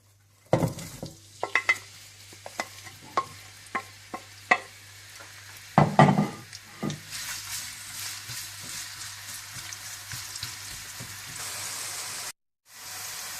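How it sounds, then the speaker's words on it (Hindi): Onions frying in hot oil: a few sharp clatters and spatters at first, then a dense, continuous sizzle that builds and holds until a brief cutoff near the end. "तेल में आप प्याज डाल दें और प्याज को आप फ्राई कर लें।"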